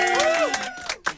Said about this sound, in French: Viens, on l'applaudit